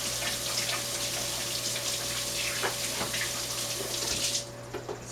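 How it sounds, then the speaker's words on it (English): Water from a kitchen tap runs steadily as hands are rinsed off after handling raw cookie dough with eggs, a continuous near splashing stream that stops abruptly near the end, leaving only a few faint drips. "I'm going to rinse my hands very quickly"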